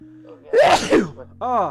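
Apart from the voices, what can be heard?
sneeze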